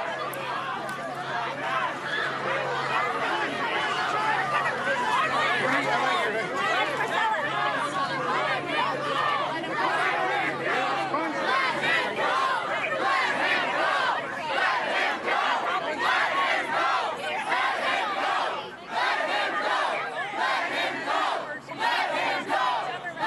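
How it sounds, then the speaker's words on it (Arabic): Students chant together against security forces at a campus protest against the war at an American university, a dense, loud crowd of voices shouting continuously for the whole stretch with steady rhythmic surges. "هتافات طلابية ضد قوى الأمن التي تحاول فض هذه"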